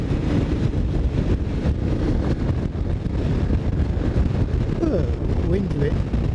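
Strong wind blows outdoors on a winter day, roaring and buffeting the microphone continuously and loudly from start to finish, with a little background noise beneath the gusts.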